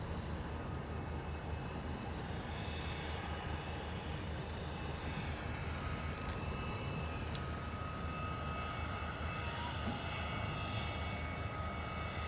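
Private jets idle and taxi on the ground at London Luton Airport on a misty day, a steady, continuous distant engine roar and whine with no talking.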